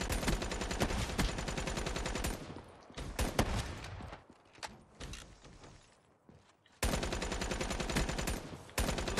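Rapid automatic gunfire from Black Ops 3 gameplay, loud dense bursts at the start, a quieter, sparser stretch with scattered shots in the middle, then heavy continuous firing resuming near the end.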